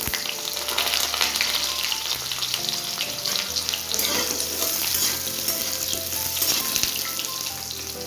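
Pumpkin tipped into hot oil with dried red chilies and panch phoron sizzles loudly and continuously, with occasional clinks and scrapes of stirring over the steady frying hiss; no one speaks.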